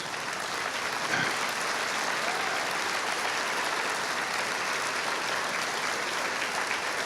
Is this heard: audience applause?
yes